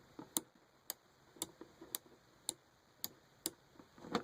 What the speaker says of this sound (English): Sounds kind of like a car turn signal to me.